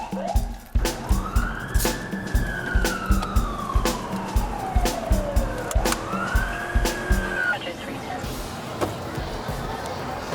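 A police car siren wails in long rising and falling sweeps during an emergency response, over rhythmic thumping and clicks, fairly close, with no speech.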